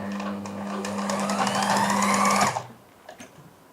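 A sewing machine runs steadily for a couple of seconds at close range, stitching piping onto a lehenga with a fast, even whirr before stopping abruptly, leaving faint handling noises.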